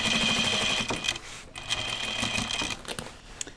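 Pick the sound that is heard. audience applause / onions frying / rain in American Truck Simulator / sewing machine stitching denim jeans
sewing machine stitching denim jeans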